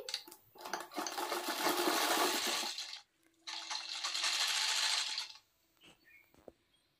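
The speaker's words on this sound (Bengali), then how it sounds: "তো আমি এখানে সেলাই করে দিচ্ছি" A sewing machine stitches a puffed sleeve in two sustained runs of rapid whirring, loud and close, with a brief pause between them and quiet handling afterward.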